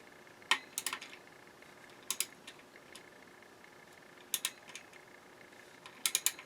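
Ratchet tightening shouldered bolts during repair of a Sansui A-60 amplifier, giving short bursts of quick clicking pawl ticks spread across a quiet background, moderately close and unaccompanied by speech.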